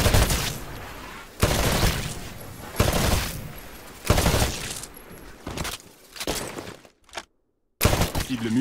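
Rifle fire on a shooting range in the Titanfall video game, loud bursts of rapid shots repeating in bursts roughly every second and a half, with a short silent gap near the end.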